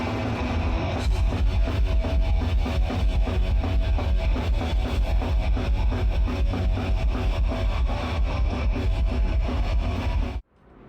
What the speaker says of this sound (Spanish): un género musical que suena así